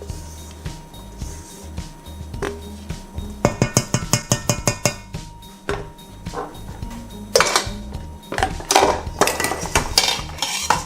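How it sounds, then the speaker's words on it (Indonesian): Chiffon cake batter is folded by hand in a bowl, with a spatula scraping and knocking against the sides in quick clustered taps and clinks, close and uneven, pausing between bursts. "sekarang kita aduk dengan sistem folding"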